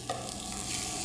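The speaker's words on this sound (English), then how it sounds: "You might think I'm crazy adding dry rice to a dry pan" Dry rice being toasted and stirred in a dry pan for mushroom risotto, giving a soft steady rustling hiss that stays even throughout.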